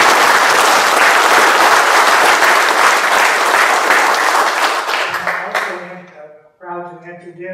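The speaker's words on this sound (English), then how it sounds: "Let's give these brethren and their ladies downstairs a round of applause." Loud, dense applause from the audience at a Masonic rededication ceremony for brethren and their ladies, sustained for about five seconds before fading, then a speaking voice comes in as the clapping dies away.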